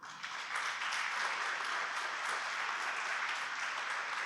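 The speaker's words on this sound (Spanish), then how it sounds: "¿Le puede dar usted un fuerte aplauso al Señor?" A church congregation breaks into strong applause for the Lord during a sermon, a dense, even wash of many hands clapping that stays loud and unbroken throughout.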